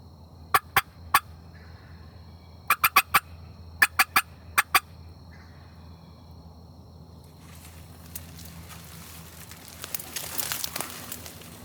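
A wild Osceola turkey gobbles in Florida hunting country: three sharp, loud bursts of rapid gobbling in quick succession, then quieter rustling and brushy movement that builds toward the end.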